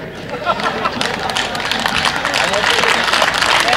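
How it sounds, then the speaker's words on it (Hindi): Scattered clapping from a small audience at a Hindi poetry recital, with a few people applauding in a brief, uneven patter that builds slightly over crowd murmur and a voice. "4-5 लोगों ने ताली बजाई, रहने दो,"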